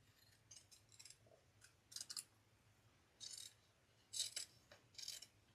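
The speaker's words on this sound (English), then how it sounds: "All I'm doing is trimming this." Scissors trim a piece for a sunflower wreath, giving a handful of quiet, close snips and crisp cuts in separate short bursts with brief pauses between them, over a soft low hum.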